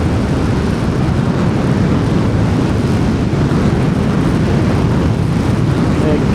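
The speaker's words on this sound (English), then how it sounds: "We'll be off the ground before he gets out on the runway." A flight-simulator F-15 jet on its takeoff run down the runway gives a loud, steady broadband roar with a deep rumble, unbroken and close for the whole stretch.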